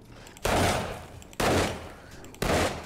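Gunfire during a zombie horde in the game 7 Days to Die: three loud, heavy bursts roughly a second apart, each decaying into a rough roar, with faint voice in between.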